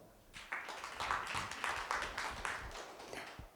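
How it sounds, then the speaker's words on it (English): Audience applause at an evening venture capital panel event, a brief burst of scattered clapping heard at moderate distance, without talk. "Applause."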